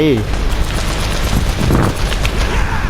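Dense, continuous rumbling blasts and booming explosions from Uncharted 1, loud and chaotic with no pauses, a voice mixed in underneath.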